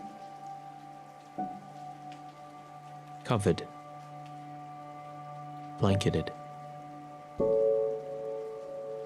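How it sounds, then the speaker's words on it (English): Steady rain falls on surfaces in a soft, continuous patter beneath sustained droning musical tones, while a voice briefly speaks a few words over it. "Rain."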